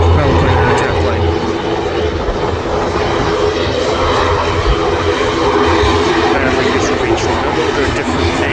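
An Aer Lingus UK airliner at Manchester Airport makes a loud, sustained engine roar with a steady low hum and broadband noise that holds for the whole stretch, close and constant.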